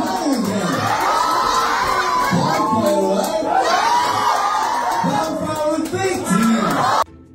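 Concert fans cheer and scream together in a loud, continuous roar of shrieking voices that rises and swells, then cuts off abruptly at the end.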